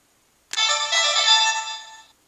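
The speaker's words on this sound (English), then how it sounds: "you get the glow again and the ringtone again" A toy communicator's single electronic ringtone sounds abruptly and loudly, a bright warbling tone lasting about a second and a half before cutting off, with silence around it.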